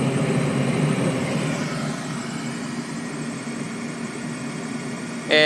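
A Trane 7.5-ton rooftop HVAC unit runs with a steady, even mechanical drone and airy hiss, close and continuous, easing slightly in level partway through, with a brief bump of noise at the very end.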